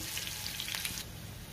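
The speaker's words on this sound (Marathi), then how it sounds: "मिनिटभर लसूण परतून घेऊयात आपण" Oil sizzling steadily with garlic and dried red chillies frying as a tempering for dal, a bright crackling hiss that softens slightly toward the end.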